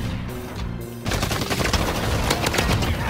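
Rapid automatic gunfire in the video game Warzone, a dense burst of loud, close shots that starts abruptly after a quieter second of engine-like hum and continues to the end.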